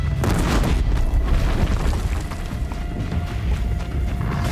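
Tripwire explosions in Horizon Zero Dawn during a boss fight, a continuous heavy rumble of booms with deep low-end bursts, loud and close throughout.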